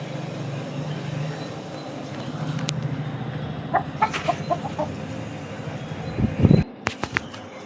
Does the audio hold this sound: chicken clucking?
yes